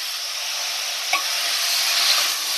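Boiled mustard greens being stirred into fried spices in a pan give a loud, continuous hissing sizzle with a brief clink of the spoon midway, close up and steady, no talking.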